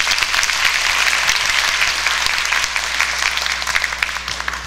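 A church audience at a Christmas praise service claps warmly in a dense, sustained round of applause that tapers slightly toward the end.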